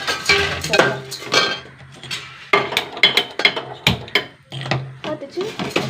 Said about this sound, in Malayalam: വറുക്കാത്ത സേമിയ കേട്ടോ അപ്പൊ അതൊന്ന് വറുക്കാം